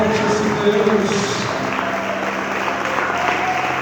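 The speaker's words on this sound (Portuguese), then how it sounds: "Você pode aplaudir bem forte esse nome." A church congregation claps loudly together in a sustained burst of dense, even applause that fills the room, with some vocal sound mixed in underneath.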